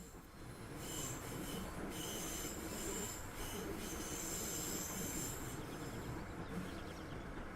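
Train wheels squeal in a steady high-pitched screech under braking in Train Simulator Classic, a sustained metallic whine over rumbling rail noise that holds for several seconds, fairly faint overall.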